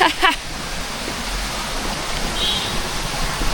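A waterfall in Bali, one of three cascades on a short hiking trail, roaring as a steady broadband rush of falling water, close and continuous, with a brief voice-like sound at the very start.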